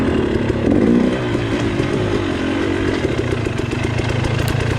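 A dirt motorcycle idles on a single-track trail, a close, loud, choppy engine putter with steady rapid pulses and a brief rev near the start, with no voices.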